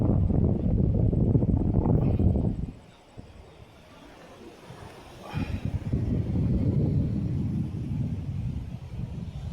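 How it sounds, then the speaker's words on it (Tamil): Strong sea wind buffets the microphone with a deep, gusty roar that eases briefly midway, then picks back up with no voices heard. "கடல் அலை செம்ம காற்றுங்க"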